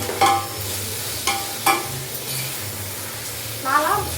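Tomatoes stirred and scraped in a frying pan, a few distinct scraping strokes over a soft, steady sizzle, with a low hum running underneath.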